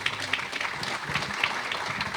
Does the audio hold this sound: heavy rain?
no